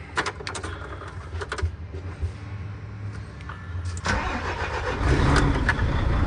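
A 2010 DAF CF 85 truck with high mileage, being converted to a dump truck, cranks and its diesel engine starts. It catches and builds into a louder, rumbling idle, heard close up with no talk.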